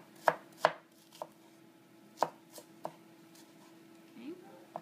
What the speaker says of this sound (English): Grandma chops up some onions